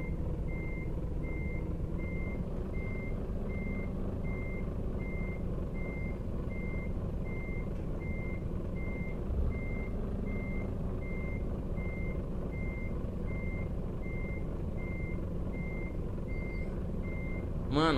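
A truck in Euro Truck Simulator 2 reverses into a parking spot, its reversing alarm beeping in a steady, evenly spaced series over a low engine idle for the whole stretch, ending with a brief hiss.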